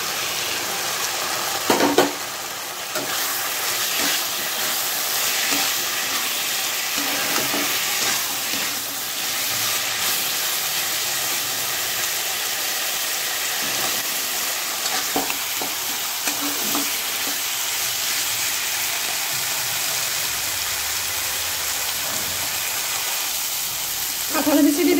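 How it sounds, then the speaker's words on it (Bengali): Boiled jackfruit seeds fry in a pan of sautéed spice paste for a prawn curry, a steady close sizzle broken by repeated scraping strokes of a stirring spoon, with no talk. "মশলাটা সুন্দর করে কষাই নিয়েছি। এখন সিদ্ধ করা কাঁঠালের বিচিটা দিয়ে দেবো।"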